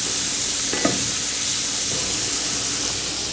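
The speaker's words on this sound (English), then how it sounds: "now my onions are just going to saute up in a little bit of this grease" Onions sauté in a pan of leftover bacon and sausage grease, sending up a steady, close hiss of frying with a brief scraping stir partway through.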